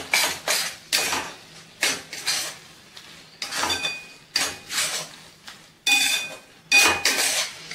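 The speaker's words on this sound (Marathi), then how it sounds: "व्यवस्थित आता हे मिक्स करून घ्यायचं आहे।" Grated fresh coconut laddu mixture stirred in a pan over medium heat, a series of loud, close metallic scrapes and clanks of a spoon against the pan in irregular bursts.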